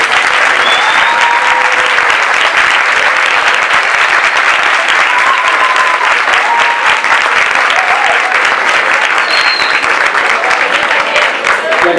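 A large audience applauds loudly and steadily, a dense, continuous roar of clapping with a few faint voices and whistles mixed in.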